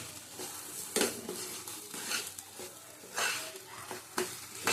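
Mashed taro paste with prawns being stirred in a hot pan, a soft sizzle under repeated scraping strokes of a spatula against the pan at an uneven rhythm, close and fairly quiet.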